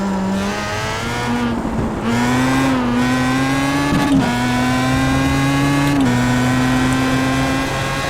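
Race car engine in iRacing at the 2008 Silverstone circuit, a loud, continuous in-car drone that holds steady with small pitch shifts through the gears, with no voices over it.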